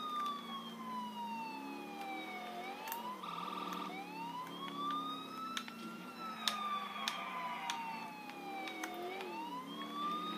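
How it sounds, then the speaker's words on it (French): A wailing police siren in GTA 4 sweeps up and down continuously, loud and steady, with a brief honking tone mixed in. "Mettre les sirènes pour que le monde se tasse."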